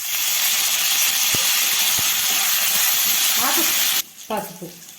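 Curry leaves and asafoetida hit hot oil for tamarind pulihora, giving a loud, steady frying sizzle and hiss for about four seconds before it cuts off abruptly, leaving a few faint, brief sounds.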